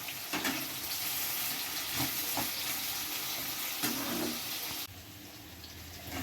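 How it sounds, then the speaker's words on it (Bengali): Eggplant and tomato fry lightly in a pan for a Bengali fish curry, a soft hissing sizzle broken by occasional scrapes and taps of stirring, quieting noticeably near the end. "বেগুন আর টমেটো এবারও হালকাভাবে ভেজে নেব"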